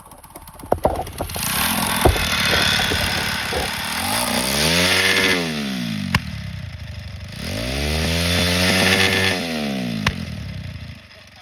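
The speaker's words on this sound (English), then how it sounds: "Get some of the exhaust backfire" A motorcycle engine revs up and down twice, rising and falling, with sharp popping cracks from the exhaust scattered between the revs.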